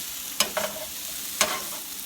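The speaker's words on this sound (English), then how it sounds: "So you just move it around, get it all browned." Keto breakfast burrito filling stirred and browned in a hot pan, a steady frying sizzle broken by three distinct scraping stirs, close and moderately loud with no talking.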